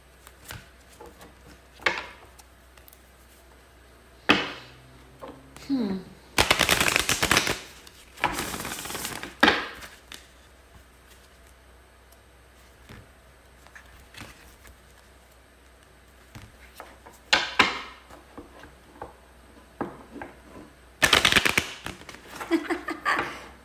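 Oracle cards being shuffled clumsily, several short bursts of riffling and flapping paper scattered between quiet gaps and small taps, some louder and longer than others.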